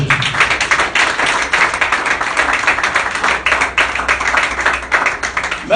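A church congregation claps and applauds for Jesus, a loud, dense, steady wall of hand claps close by, carrying on throughout with no speech over it.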